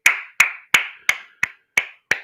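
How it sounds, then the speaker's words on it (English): Seven sharp hand claps in a slow, evenly spaced rhythm, each a crisp close smack with a short decay, heard alone with no talk. "let me applaud that man"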